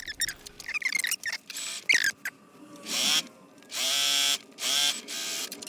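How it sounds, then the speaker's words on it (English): A sewing machine runs a 1/4 inch seam on fabric for bias binding for a duffle bag, in three separate motor bursts that whir up and wind down, each a few seconds long, after some faint handling clicks. "we will stitch that with a 1/4 inch seam allowance"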